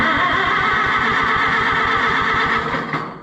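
An Oliver 66 tractor engine cranks over steadily in a loud, rapid, even rhythm without catching, then trails off at the end.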